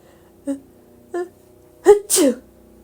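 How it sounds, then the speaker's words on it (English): A single loud sneeze, a couple of short breathy build-up sounds and then the explosive burst, close to the listener. "Did I hear someone sneeze?"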